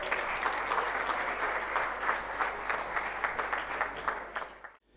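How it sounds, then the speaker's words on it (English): Steady applause from an audience at a university convocation ceremony, a dense even patter of clapping that fills the room for several seconds before cutting off abruptly. "Please welcome him with a big round of applause."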